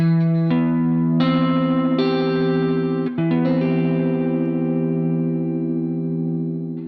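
A guitar plays a major 7 chord with its notes ringing out together, struck several times in a row and sustained through an effects unit with distortion and a chorus-like shimmer.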